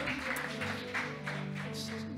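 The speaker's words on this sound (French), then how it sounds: "Veuillez applaudir Marine" Steady audience applause at a church family service, many hands clapping continuously at a moderate distance for a couple of seconds.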